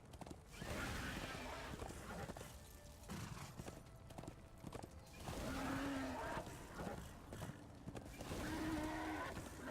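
A horse gallops in the Darksiders II video game, rapid rhythmic clip-clop hoofbeats in repeated bursts, with a brief whinny among the game sounds and someone talking over it.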